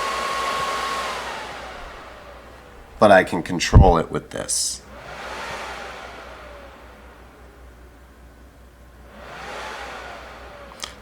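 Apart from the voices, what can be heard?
PlayStation 3 CECHA01 cooling fan, speed-controlled by potentiometer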